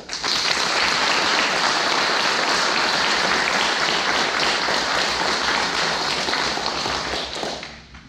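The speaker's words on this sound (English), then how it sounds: "Please join me in giving the award recipients a round of applause." Audience applauds award recipients at a Border Patrol Academy graduation ceremony, a dense, steady wash of many hands clapping for about seven seconds before tapering off near the end.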